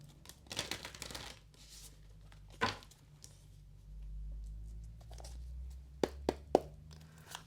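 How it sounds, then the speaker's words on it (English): A tarot card deck is shuffled close by: faint crinkly riffles at the start, then a few sharp card snaps near the end, quiet overall with no talking. "Let's give it one more shuffle here"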